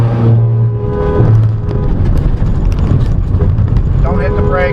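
A car speeding up to get away from a tailgating driver, the engine pulling hard under raised voices inside the cabin.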